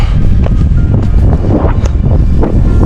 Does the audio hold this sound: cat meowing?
no